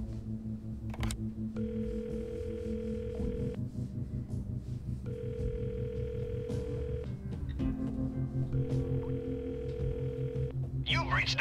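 A telephone dial tone in the video game 3 Minutes to Midnight sounds in repeated bursts over a low electronic music bed, with a few clicks between.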